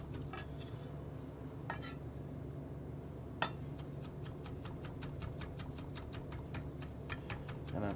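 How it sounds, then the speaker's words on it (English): Garlic being minced with a knife on a cutting board: a steady run of quick, crisp chopping taps that settles into an even rhythm, close and moderately loud over a faint background hum. "I'm gonna be adding some garlic. Mince it up pretty good."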